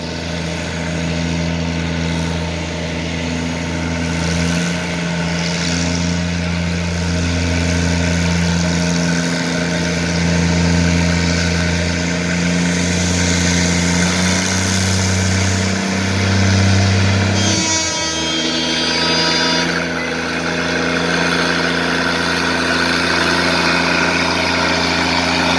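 A Minneapolis Moline G6 propane tractor, 6,700-pound class at a 5 mph king-of-the-hill tractor pull in Albion, Nebraska, rumbles loudly with a deep steady engine drone that surges briefly before settling, no voices over it.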